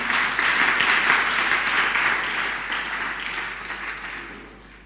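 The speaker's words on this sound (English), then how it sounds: "Another round of applause, please." Audience applause at a program closing ceremony, a broad roar of many hands clapping that peaks early and then slowly tapers off.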